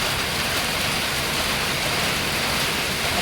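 Heavy rain pours steadily, a dense, loud, unbroken hiss of downpour with no pauses or voices over it.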